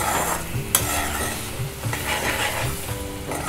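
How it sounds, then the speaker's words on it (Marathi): Egg masala gravy in a pan coming up to a boil, giving a steady close sizzle and bubbling with a sharp utensil clink near the start. "लगेच याला उकळ यायला सुरुवात झाली आहे."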